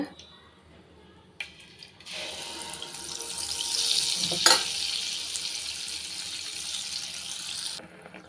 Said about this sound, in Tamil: எண்ணெய் வந்து நல்லா காஞ்சிருச்சுங்க இப்போ வந்து அப்பா வந்து சுட்டு எடுத்துக்கலாங்க